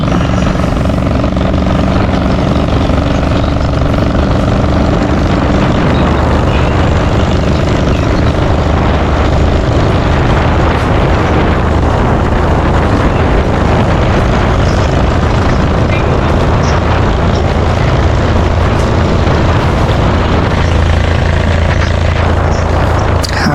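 A Diesel Bullet motorcycle engine runs loud and close, a continuous heavy rumbling drone that holds steady throughout.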